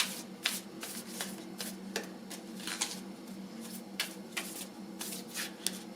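Tarot cards are shuffled close up with steady riffling and flicking, in repeated bursts of papery slaps and snaps and no talking.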